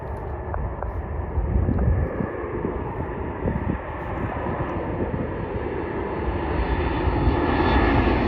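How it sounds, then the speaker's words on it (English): Boeing 737 MAX 8 jet arriving at Dallas Love Field airport, a loud continuous engine roar close by that swells slightly toward the end, with no voices. "Airlines Boeing 737 MAX 8 coming from Chicago Midway"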